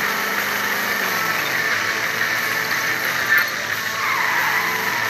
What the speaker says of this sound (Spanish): Ahora frenos de competición.